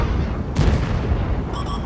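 A single heavy tank gun shot in World of Tanks, fired from a VK 72.01 heavy tank, a deep booming blast midway through a low rumbling engine bed, loud and close.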